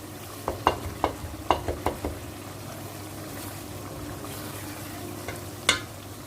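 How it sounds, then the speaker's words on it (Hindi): Masala being fried and stirred in a pan for a bhindi gosht (okra and mutton) dish: a steady low sizzle with a run of clinking spoon scrapes early on and one more sharp scrape near the end, no voices. "इसको हम सिर्फ 2 मिनट के लिए भूनेंगे।"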